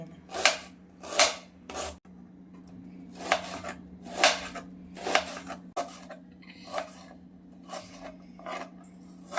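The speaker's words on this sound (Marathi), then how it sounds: "कांदा बारीक कापायचा मोठा नाही ठेवायचा जर जितकं होईल इतकं बारीक कापून घ्यायचा" A knife finely chopping onion, heard as separate short bursts of cutting strokes, some in quick pairs, close and fairly quiet over a low steady background hum.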